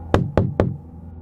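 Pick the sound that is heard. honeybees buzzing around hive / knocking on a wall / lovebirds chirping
knocking on a wall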